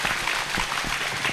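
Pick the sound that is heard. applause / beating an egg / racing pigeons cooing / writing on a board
applause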